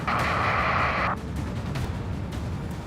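Missile blast in Ace Combat 7 aerial combat: a loud roaring boom with a bright hissing tone for about a second, then a fading rumble of engine and debris noise.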